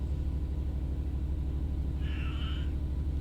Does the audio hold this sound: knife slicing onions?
no